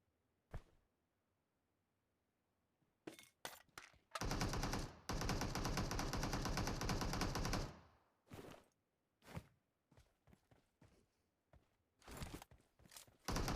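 Bursts of automatic gunfire in PUBG Mobile, a few short shots and then a long sustained rattle lasting several seconds, followed by scattered single thuds and quieter clicks and shots.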